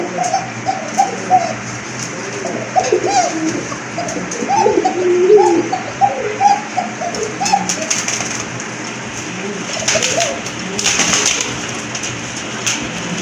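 Pigeons sold as breeding pairs, including Rajgolla and German Shield types, coo repeatedly in a rhythmic chorus of soft, low, throaty calls, several birds overlapping close by over steady background noise.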